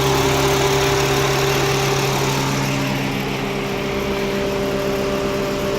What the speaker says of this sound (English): So I got a cylinder 4 Misfire.